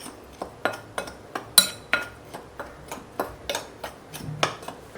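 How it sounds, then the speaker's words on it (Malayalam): Dry ingredients for eggless garlic bread dough, with salt, being mixed in a bowl: a steady series of clinking, scraping spoon or utensil strokes against the bowl, close and moderately loud, with no talking. "നന്നായിട്ടൊന്ന് മിക്സ് ചെയ്യാം."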